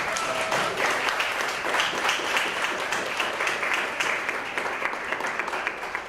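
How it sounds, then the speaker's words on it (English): Conference attendees give the presenters a round of applause, a full, even clatter of many hands clapping continuously throughout, close and fairly loud. "Let's give everybody another round of applause."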